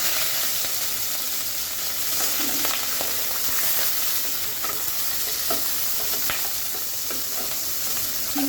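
Prawns sizzle steadily in hot oil in a pan, a continuous close frying hiss with occasional scraping stirs and small pops throughout.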